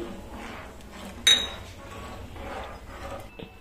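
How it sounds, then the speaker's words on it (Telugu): Semolina is stirred quickly into boiling milk in a pot. A spoon scrapes softly and gives one sharp metallic clink against the pot, with low background noise throughout. "ఇప్పుడు మనం తీసుకున్న ఈ రవ్వని వేస్తూ ఫాస్ట్ గా కలుపుకోవాలి, ఎక్కడ ఉండలేకుండా కలుపుకోవాలి."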